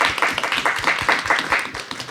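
A forum audience claps for the interpreters, a short burst of rhythmic, fairly close hand claps from a modest crowd, steady throughout.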